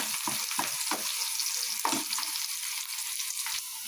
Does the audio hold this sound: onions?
yes